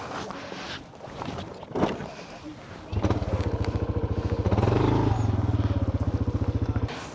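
A motorcycle engine starts up and idles with a steady, rapid chugging pulse after some shuffling and clatter, close by on a high mountain road, with a voice heard briefly before.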